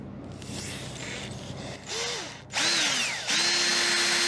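A power drill whirs in bursts while drilling a hole in a 1967 Mooney airplane, its pitch rising and falling as it bites into material, then holds a steady high whine near and loud.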